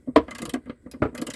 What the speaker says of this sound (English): I hate ratchets.